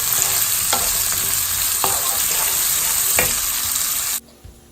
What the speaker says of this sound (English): To this adding the chopped onions, and I'm going to cook it till they are deep golden